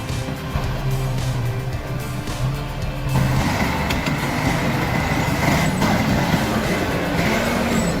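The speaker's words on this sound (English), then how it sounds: "The sight of a red vehicle towing a truck carrying tons of timber through a swampy terrain" A heavy red tracked vehicle tows a truck loaded with tons of timber through swampy terrain, giving a continuous loud, rumbling engine drone that holds steady and swells a little louder partway through.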